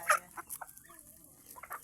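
A Chinese chicken kept on a mountain farm clucks in a few short, close, sharp bursts with quiet gaps between them.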